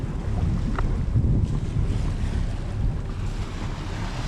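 A sailboat moves through open ocean waves in wind, a steady broadband rush of water and gusting wind noise buffeting the microphone throughout, with no voices.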